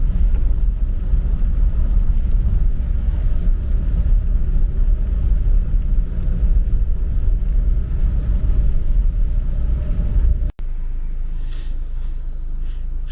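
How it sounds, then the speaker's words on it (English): Heavy rain drums steadily on a moving car, a dense roar with low road rumble beneath that cuts to a quieter, duller hiss near the end. "Still raining, pretty heavy."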